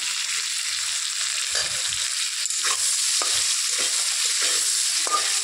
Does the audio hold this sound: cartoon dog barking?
no